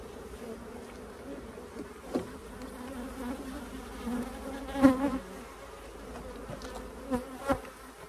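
Honeybees buzz steadily around an open hive during a beekeeper's inspection before the honey flow, a low continuous hum with a few louder passes close by.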